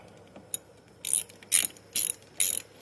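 A ratchet wrench clicks in four or five quick bursts with short pauses, loosening fine-threaded bolts on the brake of a 2009 Honda Recon 250ES ATV, close and clear with no speech.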